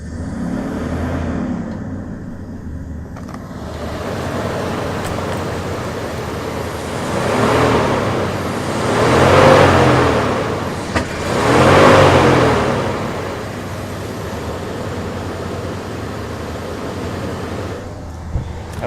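A 2001 truck's engine idles after a fuel pump change, a steady close rumble that swells twice in the middle, with no talk over it.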